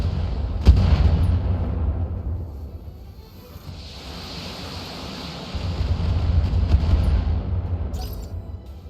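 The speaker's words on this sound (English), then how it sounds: "got hit by an autocannon" In the BattleTech video game, autocannon fire hits a mech in heavy booming impacts, with sharp cracks at the start and near the end over a dense, rumbling low roar.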